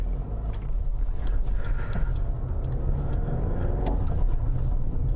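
A manual car is driven, heard from inside the cabin. A steady, low engine and road rumble runs throughout at moderate level, with small bumps and rattles and no talk.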